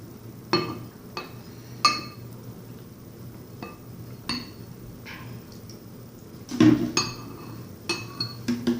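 A utensil stirs an oobleck mixture of cornstarch and water in a bowl, giving scattered clinks and taps against the side at an irregular pace, with soft scraping between them.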